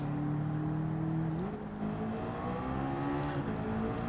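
A McLaren with twin larger turbos revs inside a tunnel in a racing video game, the engine note droning steadily, with one pitch step partway through, echoing and loud throughout.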